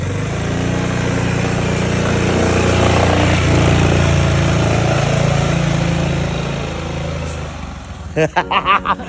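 A motorcycle engine runs steadily at a loud, close idle for several seconds, then fades and drops away, with people talking at the end.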